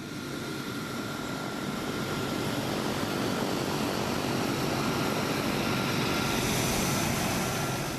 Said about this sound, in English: They've provided 2 Hercules C-130 aircraft.